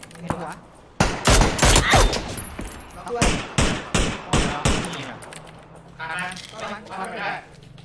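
Gunfire in the battle royale shooter PUBG: several loud bursts of rapid shots, punchy and close, broken by short gaps, with someone talking over parts of it.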